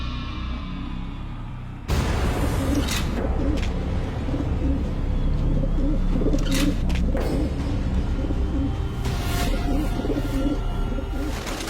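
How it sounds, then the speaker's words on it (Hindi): Two pigeons released to fly, soft repeated cooing under a steady outdoor wash of noise, with a few brief flapping or clattering bursts, moderately close. "आज एक नहीं 2 पक्षी उड़ाइए।"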